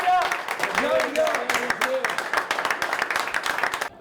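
Jonzac football players applauding themselves after a Coupe de France match: scattered, uneven claps close by, mixed with voices and shouting throughout.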